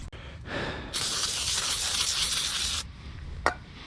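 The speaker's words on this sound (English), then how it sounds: "Spray that down, sniff all those fumes." Brake cleaner sprays onto a front brake rotor of a Jeep Grand Cherokee, a steady hissing spray bursting out for about two seconds, loud and close, then cutting off, followed by a sharp click.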